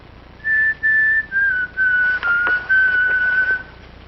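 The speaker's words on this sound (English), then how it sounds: "what is that you're whistling? Whistling? Was I whistling? William Tell Overture." A man whistles the William Tell Overture, a clear, steady melody carried in a series of sustained notes separated by short breaks, close and fairly loud over faint background.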